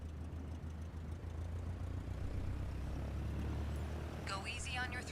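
A propeller aircraft engine in Microsoft Flight Simulator 2020 drones steadily and loud throughout, a low continuous hum with a brief voice near the end.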